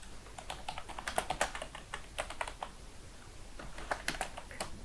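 Quiet, close keystrokes on a computer keyboard, a quick irregular run of taps in short bursts with brief pauses, as a GPON password is entered for a TP-Link XZ000-G3 router.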